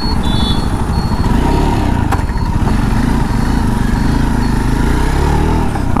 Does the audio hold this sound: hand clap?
no